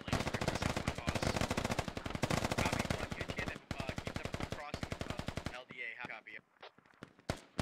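Sustained automatic gunfire from Russian soldiers in the military shooter game Squad, rapid dense bursts rattling loudly for several seconds, then breaking into scattered shots and sharper cracks near the end.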